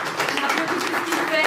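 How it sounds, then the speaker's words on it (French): Audience applause for a music artist at a Paris press conference, a moderate patter of clapping heard beneath a speaking voice that continues over it. "On peut l'applaudir"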